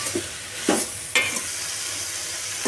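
Vegetable pieces for a bottle gourd and drumstick pulusu sizzle in a pan with turmeric, chili powder and salt while a spoon stirs them in a few distinct scraping strokes over a constant frying hiss.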